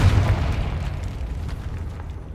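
A Confringo spell explosion in the video game Hogwarts Legacy, a loud, deep boom that fades into a rumbling tail.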